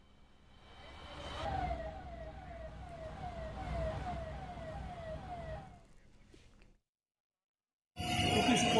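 A fire brigade vehicle wails its siren while responding to a tyre factory fire. The siren is loud and sweeps up and down for several seconds with traffic rumble underneath, then cuts to silence before other noise resumes.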